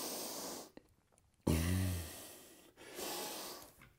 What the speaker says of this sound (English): Deep breathing here, 5 deep breaths.